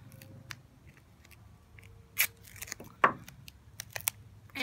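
Tape pulled and torn off a roll while building a bottle rocket, several sharp, close crackling rips and snips over quiet background rustle.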